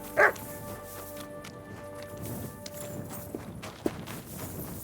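A dog in the medieval Bohemian world of Kingdom Come Deliverance 2 lets out one sharp bark at the start, followed by soft footsteps and faint ambient sounds, with no one speaking.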